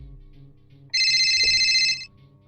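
A telephone rings once in a FNaC-inspired horror game series, a bright electronic trill lasting about a second, loud and close over a low ambient background hum.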